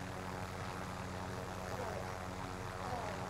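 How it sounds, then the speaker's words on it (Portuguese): A helicopter in the Call of Duty Warzone video game gives a steady, faint rotor and engine drone that holds constant throughout with no talking. "Está aqui um helicóptero."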